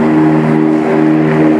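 Twin propeller engines of a Tecnam P2006T in flight, a loud, steady close droning hum with strong sustained tones and no pauses.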